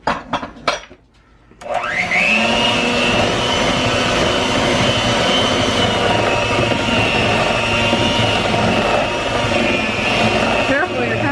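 An electric mixer whirs up to speed after a few clatters and then runs loud and steady through muffin batter for banana streusel muffins, with voices faint beneath the drone.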